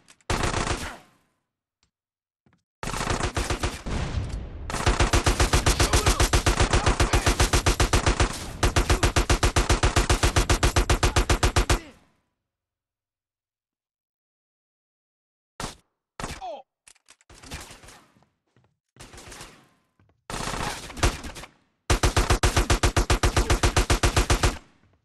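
Bursts of rapid automatic gunfire in Grand Theft Auto: San Andreas – The Definitive Edition, long loud sustained volleys broken by silent gaps and a few short scattered shots, no talking.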